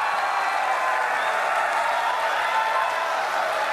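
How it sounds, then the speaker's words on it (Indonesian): A studio audience at a 2014 Indonesian presidential debate claps steadily, a dense, even wash of applause that holds at the same level throughout. "Kita berikan tepuk tangan."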